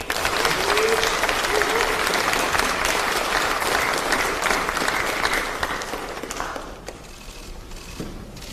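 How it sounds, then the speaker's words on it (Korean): A party caucus meeting gives a presidential candidate a long welcoming round of applause from a crowd. The steady clapping fills most of the stretch, then thins out and fades toward the end. "환영과 경제의 박수 부탁드립니다."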